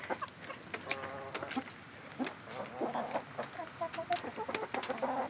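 Hens cluck busily and continuously while being hand-fed their own eggs from a tray, several birds overlapping in a lively, close-up backyard chorus.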